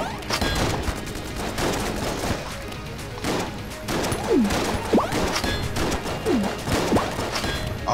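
Rapid, continuous video-game gunfire from a Trigger Twins boss fight in Enter the Gungeon: dense, loud bursts of shots and impacts fill the whole stretch, with short rising and falling whistling effects cutting through partway in, and no talk.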